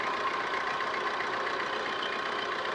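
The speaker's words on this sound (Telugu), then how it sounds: "ఇంజన్ స్టార్ట్లో ఉంది కానీ చాలా స్మూత్ ఉంది ఇంజన్" A Maruti Breeza car engine idles in a faint, smooth, steady hum with a soft even rumble, heard alone for a few seconds without any talk.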